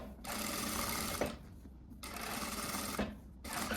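A sewing machine stitches a blouse seam in three quiet runs of rapid, even whirring, separated by brief pauses.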